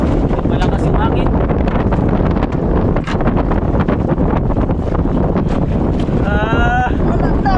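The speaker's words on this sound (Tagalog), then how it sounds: "Lakas ng hangin mga kaibigan." Strong wind buffets the microphone with loud, constant roaring gusts while a person talks and exclaims underneath.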